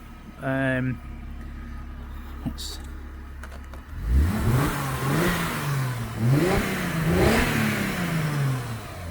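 A car with about 123,000 miles, styled like a late-1990s or early-2000s model, starts up with a low engine note after a brief voice, then idles and revs in rising and falling swells that run steadily to the end.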